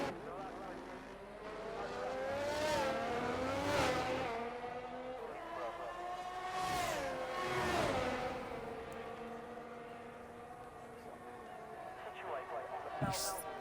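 Onboard F1 23 race car at the Abu Dhabi Grand Prix, a high-pitched engine climbing through several upshifts and dropping for braking zones, moderately loud with a brief sharp tick near the end.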